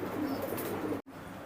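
High flying pigeons give soft, low cooing calls at moderate distance over a steady background murmur, cut by a brief dropout near the end.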